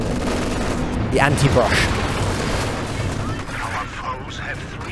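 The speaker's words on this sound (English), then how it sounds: "both shots, the Su-85 and the AT gun miss" Gunfire from an Su-85 tank destroyer and an anti-tank gun in a 2v2 strategy game match, a couple of booming shots amid battle noise, heard under steady commentary from a caster.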